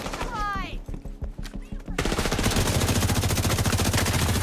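Video game gunfire in The Division, a fight in Brooklyn: a brief whistling effect and scattered shots give way to a dense, continuous burst of rapid automatic fire, loud and close.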